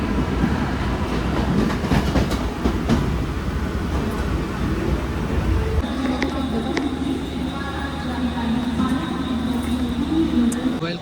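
A train at Mumbai's CST station rumbles and clacks steadily, loud and close, easing along slowly, with people talking over it and a faint high whine emerging in the latter half.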